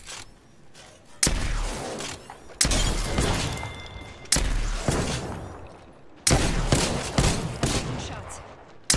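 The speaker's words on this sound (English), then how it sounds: "Shots." A few loud, sharp gunshot bursts in the battle royale shooter Apex Legends, about four distinct volleys spaced a second or two apart, each trailing off into a fading echo.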